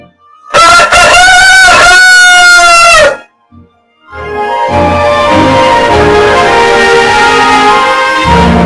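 Rooster crowing loudly and close, one long full crow, followed after a short pause by a dense burst of other loud farmyard sound.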